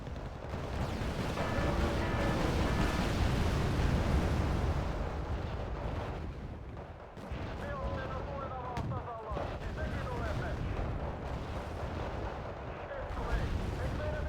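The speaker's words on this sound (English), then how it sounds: "Oh, my mortars, in fact." Mortar fire in a video game booms over a dense wash of battle noise, with a loud continuous rumble of explosions and gunfire, and a voice talking over it.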